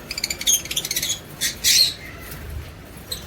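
Sharp, shrill squawks from a lovebird parrot, first a rapid run of short chirpy calls, then a couple of louder harsh bursts, close by, with a last faint call at the end and no talk.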